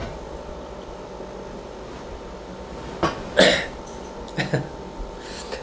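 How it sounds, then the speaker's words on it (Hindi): A man sitting indoors on a cold night coughs a few times, a strong burst followed by a couple of smaller coughs and throat sounds, close and fairly loud over a quiet room. "अब देखो मैं बैठा हूँ यहाँ पे, खांस रहा हूँ"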